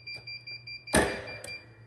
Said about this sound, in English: So one, it's gonna beep